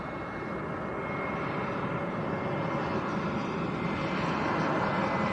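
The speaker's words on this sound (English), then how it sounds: "This looks like Iberia. Should be from Madrid. A321 Neo." An Iberia Airbus A321neo airliner arriving from Madrid at Lanzarote Airport makes a loud, continuous engine roar close by. The broad rumble holds steady and swells slightly toward the end, with no talk over it.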